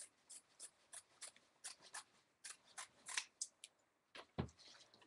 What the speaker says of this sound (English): we're going to cut just a little piece off, okay? So we're going to take our fabric scissors.